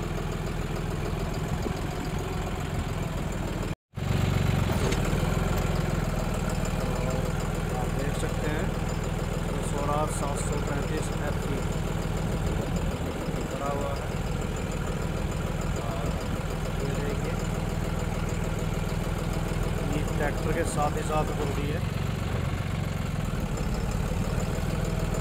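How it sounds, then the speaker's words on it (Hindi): A tractor engine runs at a slow idle speed while it digs furrows for planting sugarcane. The steady, loud rumble continues with almost no break, and talk can be heard faintly over the engine. "बिल्कुल स्लो स्पीड होती है जो ट्रैक्टर की नॉर्मल स्टार्टिंग,"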